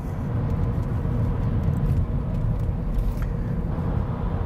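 A converted Toyota Prius second-generation plug-in hybrid drives in EV mode on its electric motor alone, producing a steady low road rumble and tyre noise throughout with no engine note.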